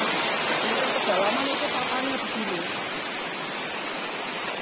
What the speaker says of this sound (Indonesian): Ini air terjun ini